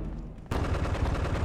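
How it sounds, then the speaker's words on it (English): Gunfire in the Die Hard Vendetta video game, a loud, rapid burst of repeated shots that kicks in abruptly after a half-second of lower rumble and keeps going to the end. "Two more shots, you got her."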